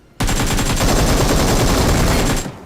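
Loud, sustained automatic gunfire in the BGMI mobile shooter game, a rapid unbroken burst of shots lasting over two seconds that starts abruptly and stops sharply, heard alone with no talk.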